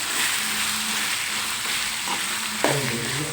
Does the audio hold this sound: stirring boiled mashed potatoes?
yes